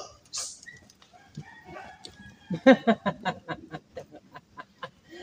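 A dog barks repeatedly in a rural yard, a quick run of sharp barks rising then trailing off, with chickens clucking and a rooster crowing nearby.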